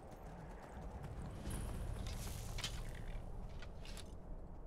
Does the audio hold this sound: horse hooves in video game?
yes